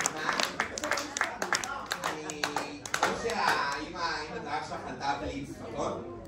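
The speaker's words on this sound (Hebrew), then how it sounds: "אני רוצה מחיאות כפיים" An audience claps in a quick, dense burst that builds into steady applause. Someone talks over it in Hebrew.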